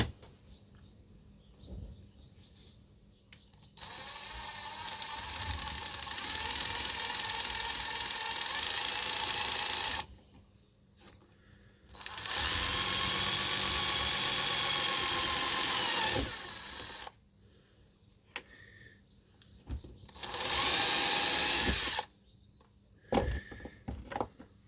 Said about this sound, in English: Right, so now we need to drill this plastic for his feet.